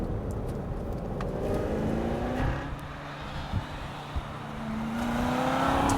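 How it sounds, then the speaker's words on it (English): A 2016 Chevy Corvette Z06 accelerating hard at full throttle, its engine note climbing steadily in pitch as it pulls, loud and close, with a gear change partway through and no talking. "the Z06 is stupendously fast, floored for either wheel spin or tremendous acceleration"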